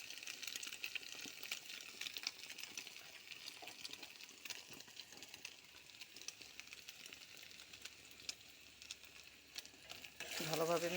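Spices being stirred into a sizzling mixture in a frying pan, a steady crackling fry with soft scraping of the spoon throughout, close but quiet, ending in a brief louder clatter.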